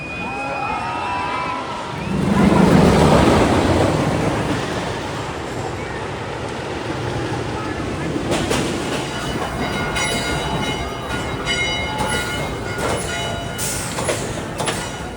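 A ride on Legend, the wooden roller coaster at Holiday World, rumbles and clatters along its track, the roar swelling early before settling into a steady rattling run with sharp knocks and clicks, no talk over it.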